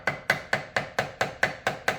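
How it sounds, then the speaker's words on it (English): A brass hammer taps an ATV shock body in a steady rhythm, nine sharp, ringing strikes evenly spaced, close and clear with no talking. "I use a brass hammer, but you can use any small hammer."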